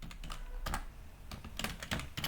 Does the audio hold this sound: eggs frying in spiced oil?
no